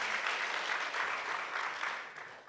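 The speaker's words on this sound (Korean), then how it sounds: "주님의 사랑을 담아서 큰 박수로 환영해 주시면 감사하겠습니다" A church congregation applauding to welcome first-time visitors at a Sunday service: a full, dense round of clapping from many hands that fades slightly at the end.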